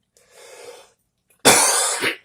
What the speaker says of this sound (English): if occasionally you hear me cough, don't think it's COVID or anything